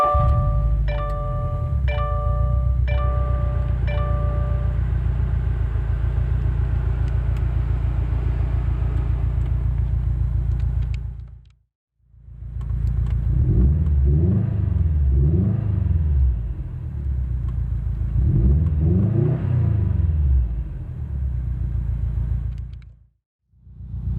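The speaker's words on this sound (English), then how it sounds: "But let's go ahead and start it up." A 2015 Subaru WRX STI Limited's engine starts and settles into a deep, loud idle rumble, then twice revs up in rising and falling surges, each followed by a sharp cutoff to near silence.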